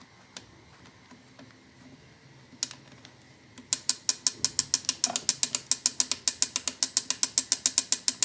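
The crank handle of a Fern O'gran mechanism, with a suspected broken spring inside, gives a few isolated clicks before a fast, even run of loud ratcheting clicks once cranking begins.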